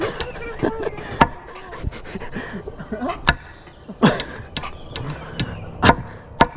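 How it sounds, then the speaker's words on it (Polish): Sharp hammer blows ring out on a building site, irregular loud strikes spaced a second or so apart, mixed with nearby workers talking. "Nie no, bije się młotkiem, no."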